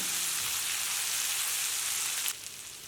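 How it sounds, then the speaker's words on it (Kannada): Curry leaves and green chillies fry in a hot pan, giving a steady, loud, close sizzle that drops off suddenly near the end, with no voices. "ಕರಿಬೇವು ಸೇರಿಸ್ತೀನಿ ಹಸಿಮೆಣಸಿನಕಾಯಿ ಎಲ್ಲ ಚೆನ್ನಾಗಿ ಫ್ರೈ ಆಗಲಿ"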